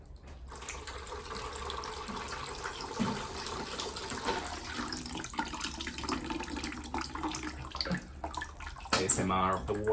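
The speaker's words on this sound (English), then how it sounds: "ASMR of the water drips." Water trickles and drips steadily while indoor houseplants are watered, running like a small water feature, with a faint voice underneath.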